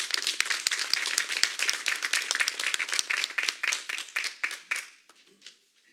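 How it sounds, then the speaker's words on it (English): A crowd at a community meeting gives a round of applause, with dense, lively clapping that carries steadily and then thins out and fades to scattered claps near the end. "I want to give a round of applause to our"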